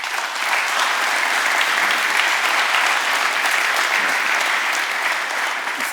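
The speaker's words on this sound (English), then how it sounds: "Let's give him a round of applause." Audience applause in a crowd at a strength-sports event, steady sustained clapping for six seconds, full and dense without letting up.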